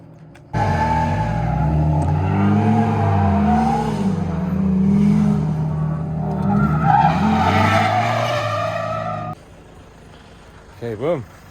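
Car drifting at a drift day in Japan, tires skidding and squealing loudly in long sweeping swells with engine revving, voices talking over it before a sudden cut to quiet.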